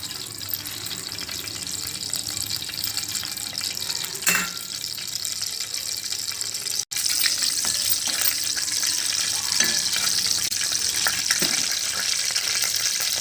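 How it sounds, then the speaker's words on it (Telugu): Cumin, cloves and cinnamon fry in oil for an egg onion curry, a constant close hiss of sizzling with occasional stirring knocks and one sharp click partway through. "కొద్దిగా సాయి జీరా రెండు లవంగాలు కొద్దిగా పట్ట నూనె వేసేద్దాం"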